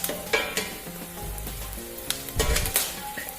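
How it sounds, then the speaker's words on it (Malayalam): Curry leaves hit browned shallots in hot oil for a Kerala-style beef roast, bursting into a close, loud sizzle with sharp crackling pops and a few clanks of stirring. "ഈ സമയത്ത് ഇതിലേക്ക് കറിവേപ്പില ചേർത്ത് കൊടുക്കുക."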